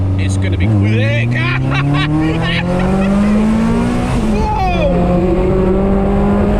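A Caterham 620S sports car accelerating hard, its engine note climbing steadily through the gears with a brief shift dip, loud and close, with tyre noise and people talking over it.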